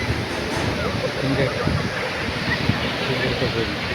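Sea surf rolls in at Malpe beach near Udupi as a steady, broad roar of breaking waves and wind, continuous and fairly loud, without any distinct individual crashes.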